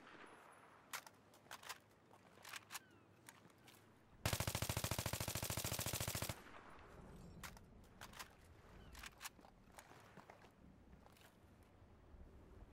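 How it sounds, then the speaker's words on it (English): Automatic rifle in Battlefield 3 fired in short bursts: several brief clusters of sharp shots, then one loud sustained two-second burst, set against sparse distant gunfire and battlefield ambience. "Much better with short bursts of fire."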